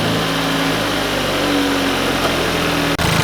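Hyundai Veloster N fitted with an Injen cold air intake starts up and revs, a loud, close, steady engine drone with rising throttle blips and a brief cutout near the end, no talking.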